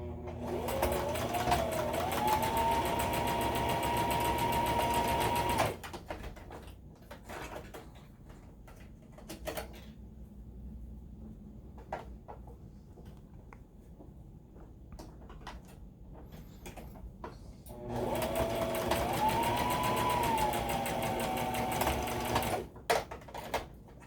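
A sewing machine stitches darts in fabric in two long steady runs of rapid whirring, with a quiet pause of small handling noises between them.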